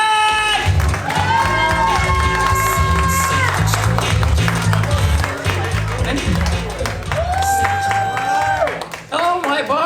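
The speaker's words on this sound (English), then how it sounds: "Start clapping, start clapping, start clapping" Crowd at MyBar comedy night clapping and cheering for comedian Andrea Slack, a dense continuous roar of applause and whoops with music and voices mixed in, fading near the end.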